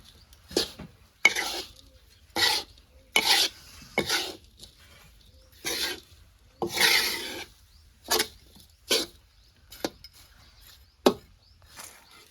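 Grated coconut being stirred into a gundar pak mixture in a pan: a spoon scrapes and rubs in short, irregular strokes, each separated by brief pauses, close and moderately loud with no talking.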